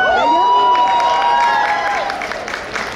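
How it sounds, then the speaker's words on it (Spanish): Audience at a Lolita Fashion expo applauds and cheers loudly, with shrill whistles and shouts over a steady wash of clapping that fades slightly toward the end. "Un aplauso por favor por ella."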